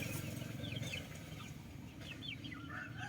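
A black Jolohano hen clucks in short chirpy bursts, fairly close, over a steady low background rumble.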